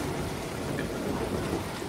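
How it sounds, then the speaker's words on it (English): Steady rain in the video game Star Wars Jedi: Fallen Order, a dense even patter with a low rumble beneath, continuous and moderately quiet throughout. "It's raining."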